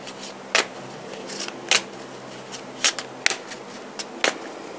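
Tarot cards are shuffled in short, separate bursts, five or six crisp riffles spaced about a second apart with quiet pauses between them, close and fairly soft.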